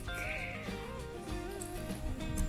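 Several goats bleat in wavering, overlapping calls, fairly close, with rustling and shuffling underneath.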